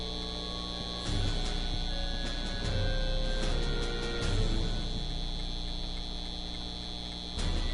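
A steady electrical amp hum from the Back to the Future video game, a constant low buzzing drone with a high whine, joined by scattered faint ticks and clicks throughout.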